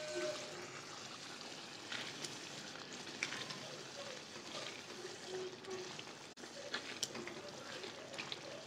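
Mutton karahi sautéing in hot oil for Bakra Eid, a steady close sizzle and crackle with occasional stirring scrapes, continuous throughout with a voice faintly in the background.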